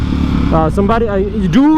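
A motorcycle exhaust rumbles and revs steadily throughout, with someone talking loudly over the engine noise.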